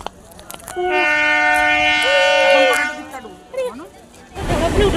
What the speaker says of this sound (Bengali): দেখো ট্রেন আসছে, ট্রেন আসছে।